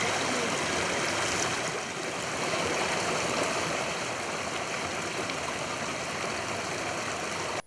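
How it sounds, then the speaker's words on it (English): Mountain spring water flows steadily through a forest, a constant broadband rush with no break and no voices. "we made a stopover at one of the springs in the mountains. This is where the Batwa fetch their water"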